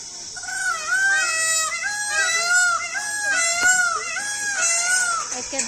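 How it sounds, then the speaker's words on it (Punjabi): Repeated loud, nasal wailing calls of a peacock perched in a tree at a zoo in Jammu, rising and falling in a series close by, with faint background noise. "ਆਵਾਜ਼ ਸੀ ਮੋਰ ਦੀ"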